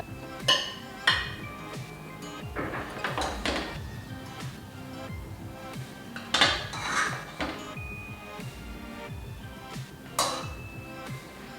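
Plates and cutlery clink and scrape through a home meal of tomato bath and jamun, with sharp metallic taps at irregular intervals over a soft room background.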